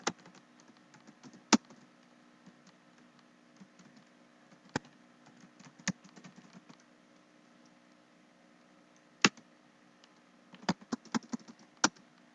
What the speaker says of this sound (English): I'm just typing a random number.